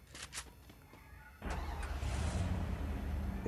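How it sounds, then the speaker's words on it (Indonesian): Motorbike engine in the video game Free Fire, a few short clicks and thumps followed by the engine starting up and settling into a steady, loud drone. "Nah, kita naik motor aja lah biar cepet lah."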